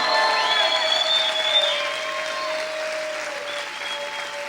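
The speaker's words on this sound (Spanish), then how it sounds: "Sigue gritando, sigue aplaudiendo fuerte al Señor." Loud, continuous clapping from a church congregation during worship, with some voices mixed in, sustained throughout before easing slightly toward the end.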